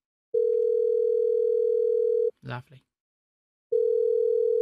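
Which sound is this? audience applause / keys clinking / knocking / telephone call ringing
telephone call ringing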